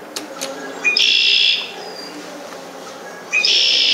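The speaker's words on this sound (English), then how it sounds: "Red-winged blackbird." Two buzzy, trilling calls from a red-winged blackbird, fairly close and loud, separated by a few seconds of quieter outdoor ambience.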